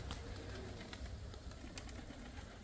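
Pigeons cooing faintly outdoors, soft repeated low calls over a quiet hiss of background noise.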